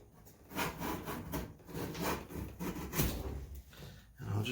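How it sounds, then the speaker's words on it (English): A hand planer shaves wood in a quick series of rasping strokes, close and fairly quiet, each pass a short scraping whoosh. "So I'll use my planer again."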